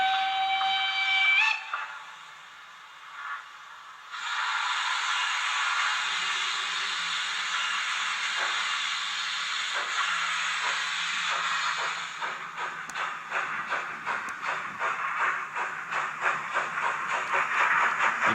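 Roco Ty2-911 model steam locomotive sound module: a sharp whistle, then steady steam hiss, followed by rhythmic chuffing that quickens as the engine starts and runs, loud and close with no talk.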